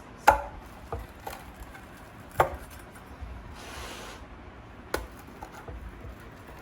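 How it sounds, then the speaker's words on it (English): Baked Italian pizza sliced on a cutting board: a few sharp, separate chops and knife thuds spaced a second or two apart, with a brief scraping rub in between, close and fairly quiet, no talk. "So you're just going to take it over to a cutting board and cut it into slices."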